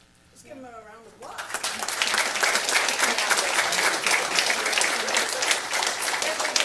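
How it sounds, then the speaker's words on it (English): Audience applause at a Turlock city council meeting, starting after a brief voice and swelling into sustained, dense clapping from a room full of people, loud and even to the end. "Let's give them a round of applause."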